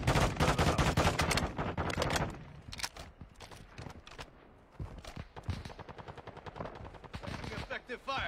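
Rapid bursts of video game gunfire crackle loudly at the start and return in shorter volleys, with people talking over the shots throughout.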